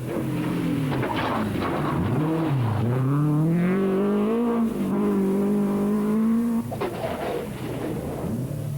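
A 1981 rally car on a Circuit of Ireland stage, its engine loud and close, revving hard and climbing through the gears for several seconds before backing off.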